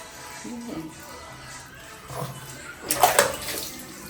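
Water running while a pet dog is bathed during a grooming session, a soft, close splash and gush that gets louder toward the end, with faint talking under it.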